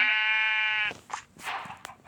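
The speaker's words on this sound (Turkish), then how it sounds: "Arkadaşlar siz pembe koyunu zor görüyorsunuz." A lone pink sheep in Minecraft gives a long, steady, buzzy bleat, followed by a few soft clicks and thuds.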